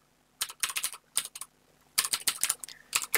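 Close, quiet computer keyboard typing in two quick bursts of clicky keystrokes separated by a short pause.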